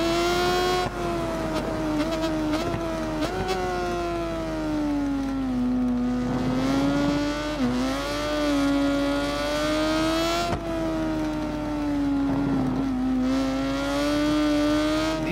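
A motorcycle engine in the racing game Ride 4 screams at high revs, its pitch rising and dipping through gear changes and corners, loud and continuous throughout.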